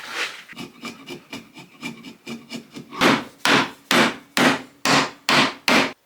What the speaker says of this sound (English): Just need to tidy that up with a chisel.